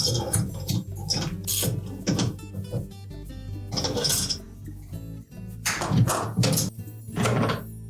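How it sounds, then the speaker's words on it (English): A ratchet wrench tightening a part on a Whirlpool dishwasher during an inlet base seal replacement, giving a series of close, uneven clicking bursts and knocks with brief pauses between strokes. "And then we'll tighten it with the ratchet."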